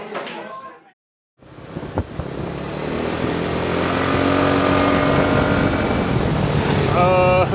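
A motorbike riding along on Langkawi island, Malaysia, with a steady loud engine drone and heavy wind rush building after a brief silent gap, a faint voice at the start.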